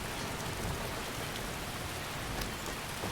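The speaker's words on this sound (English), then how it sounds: "Canonically, it's raining" Rain pours down in the Wildlander game world, a continuous broadband wash of drops with small flickers of nearer splashes and no voices.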